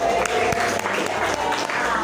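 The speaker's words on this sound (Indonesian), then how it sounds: "tepuk tangan untuk Fatih" Classroom applause for a winning student, a steady dense patter of many hands clapping throughout, fairly loud and continuous with a few sharper claps standing out.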